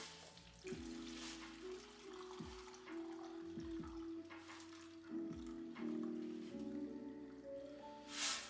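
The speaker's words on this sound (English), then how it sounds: "So we'll try to get all the stuff dumped out of this tank here now." Rusty water pours and trickles out of the fuel tank of an early-1980s Honda Z50R minibike into a tub, a faint, steady wet stream with drips, heard close with no talking.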